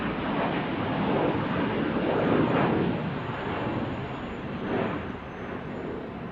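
A Delta airliner rolls for takeoff on runway 16 left at Salt Lake City, its broad, steady jet roar swelling and easing slightly while staying loud and continuous.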